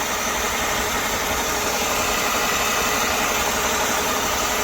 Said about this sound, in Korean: 이쪽을 용접해서 조립을 했고 그 다음 여기는 나중에 발견해서 다시 부랴부랴 용접을 해서 지금 시동 걸고 소리를 확인합니다